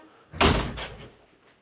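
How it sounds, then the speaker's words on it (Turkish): A door is slammed once, hard and close, in an indoor demonstration of a startle reflex; the sharp bang has a short ringing tail that fades within about a second, with no talk over it. "Kapıyı böyle bir çarp."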